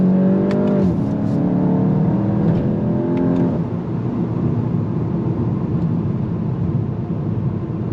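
A 2025 VW GTI SE accelerates on throttle in second gear, its engine note climbing steadily and then dropping at a shift, close and loud, before fading into a steady road rumble with no talking.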